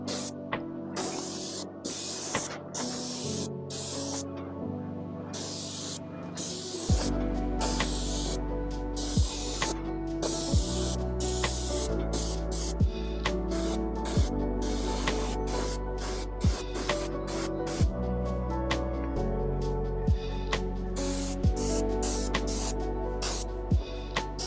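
Wood stain is sprayed onto a wooden deck: a constant hissing spray with a low pump hum, broken by regular short pauses and sharp bursts as the trigger is pulled again and again.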